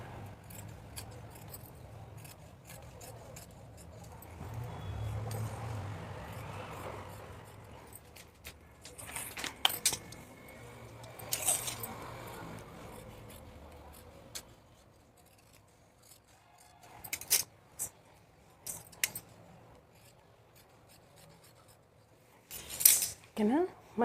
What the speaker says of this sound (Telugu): ఇప్పుడు మనం మార్క్ చేసుకున్న విధంగా యాజ్ ఇట్ ఈస్గా కట్ చేసేసుకోవాలి.